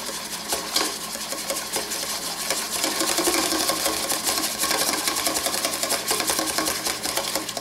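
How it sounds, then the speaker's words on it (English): A whisk beats ingredients together in a bowl for an emulsion, giving a fast, steady, close rattling and clicking that runs continuously without talk. "Just give it a real good whisk, 30 seconds."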